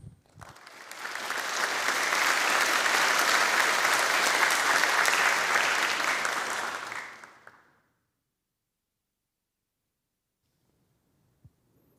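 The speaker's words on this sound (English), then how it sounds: "Let's give another round of applause for Ju Young-ho" A large hall audience at a Nagoya University fall entrance ceremony applauds for several seconds, a dense, steady wash of clapping that swells in, holds, then fades to silence, followed by one faint knock.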